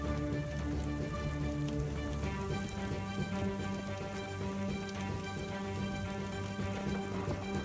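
Heavy rain falling in Taif during a storm, a dense, continuous patter over a steady background hum, even in level throughout with no voices.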